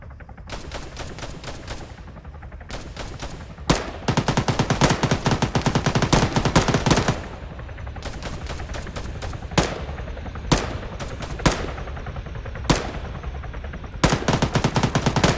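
Rapid automatic gunfire rattles in long close bursts at a Sunday shooting training session, loud strings of shots broken by short pauses and a few single sharp cracks.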